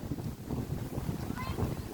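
Dry wind buffets the microphone in a low, steady rumble, with faint speech underneath.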